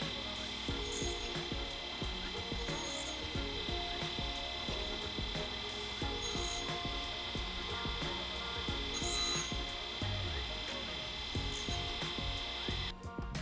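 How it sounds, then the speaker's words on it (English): Surface grinder with a magnetic chuck grinding a steel blank: a steady, continuous abrasive rasp with a constant whine, grainy scraping and a few sharper swells, running close and loud throughout. "The grinder has a magnetic chuck, so you don't need any fixtures for grinding steel."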